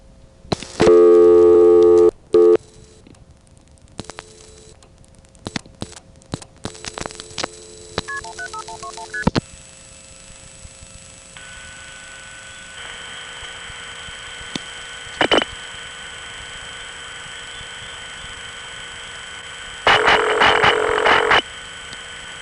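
A 1970s coin telephone in Greenville, North Carolina, sounds a loud tone burst, then a quick run of dialing beeps, followed by sustained call-progress tones and a final loud tone burst, with no talk.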